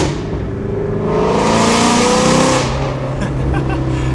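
Ford Shelby GT350 with a modified exhaust revving hard, the engine note climbing and swelling to a loud roar before dropping back, close and dominant, with a few faint voices in the background.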